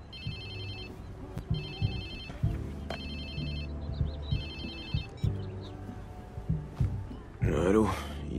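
A phone ringtone chimes in repeated bursts in the video game Watch Dogs 2, loud and close, alongside in-game sounds, with a voice speaking as the ringing ends.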